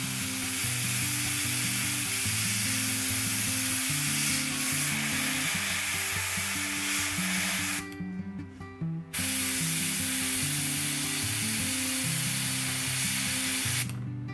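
Airbrush overspraying blue paint onto a Necron Cryptek miniature, a steady hissing spray that cuts out briefly and then resumes, with a low mechanical hum underneath.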